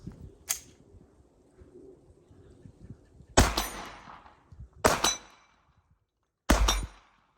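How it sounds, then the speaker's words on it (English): A Sig Sauer P320 X5 Legion pistol fires three shots at 35 yards, each a sharp loud crack with a short echoing tail, spaced about one and a half seconds apart after a quieter stretch with a brief click. "We're going to put 3 shots down range and see what it does."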